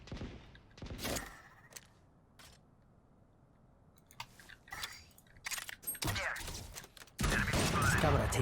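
In-game gunfire from the video game Valorant as players shoot at a tripwire: sharp bursts of shots and mechanical clatter, with a dense loud stretch toward the end.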